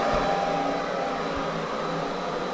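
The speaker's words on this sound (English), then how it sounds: "The old hairdryer hotel trip." A steady, whooshing hair dryer drying clothes in a hotel room blows continuously at close range, its airy roar holding level throughout with no voices.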